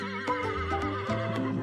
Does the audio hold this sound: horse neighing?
yes